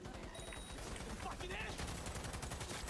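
Rapid gunfire from an enemy's big gun in a Cyberpunk 2077 firefight, dense repeated bursts that grow louder in the second half, with a voice speaking over the shots.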